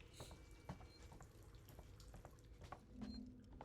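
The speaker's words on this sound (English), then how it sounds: "I just hear water dripping and it makes me nervous." Faint water dripping in a quiet space, a few scattered soft drips and splashes spread irregularly across a low, murky background with no voices.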